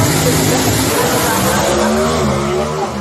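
Drag race cars roar past loudly in a dense, continuous blast of engine noise with squealing tires, crowd and track din blended in throughout.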